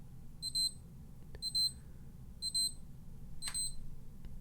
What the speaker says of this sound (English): you can get a sample of the alarm.